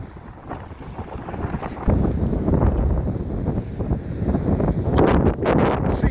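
Strong gusty wind on Blackpool promenade on a rainy morning, buffeting the microphone in loud roaring surges that swell sharply after the first two seconds, with faint sea noise beneath.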